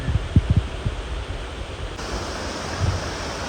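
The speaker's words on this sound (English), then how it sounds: "There's a cool waterfall down there." Broadband rushing water from a waterfall and stream beside the Appalachian Trail, a steady continuous roar with a few low thumps early on, fairly near and loud.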